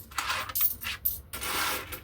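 Coins spill out of an opened coin savings bank in a few jangling metallic bursts, close and fairly loud, with short pauses between pours.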